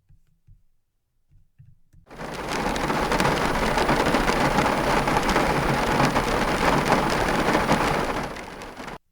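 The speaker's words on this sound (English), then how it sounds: "It's rainy, it's gray" Heavy rain on a gray Sunday starts abruptly after a quiet moment, becoming a loud, dense, steady downpour hiss with low rumbling that holds for several seconds before cutting off.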